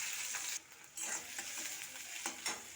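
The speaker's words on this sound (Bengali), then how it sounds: "এবার পেঁয়াজ কুচি দিয়ে দেবো।" Chopped onion and green chilli fry in hot oil while being stirred, a steady close sizzle with a few brief scraping strokes from the stirring, and no voices.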